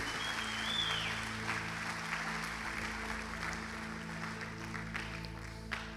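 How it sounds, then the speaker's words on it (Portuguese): A church congregation applauds during a sermon, a steady wash of many hands clapping heard from a distance at low level, with a faint electronic hum beneath. "Aplauda a palavra do Senhor em nome de Jesus."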